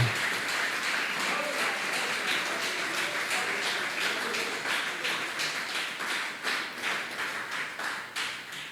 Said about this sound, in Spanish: Démosle ese aplauso al Señor